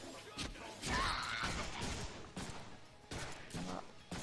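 Rapid bursts of gunfire and impacts from the Deadpool video game sound as repeated loud shots and crashing hits in quick clusters, with game action noise throughout.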